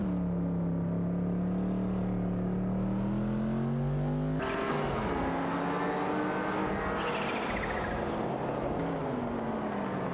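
Engine whine from race cars in a racing video game, layered as several cars overtake one another, with a sharp jump in pitch and loudness partway through and another surge near the end; steady and fairly loud, no talk.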